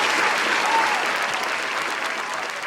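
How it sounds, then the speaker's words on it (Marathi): Audience applause for a guest being seated on stage at a comedy show, steady loud clapping from a crowd filling the whole moment without pause. "एकदा जोरदार टाळ्या झाल्या पाहिजे मॅडमसाठी"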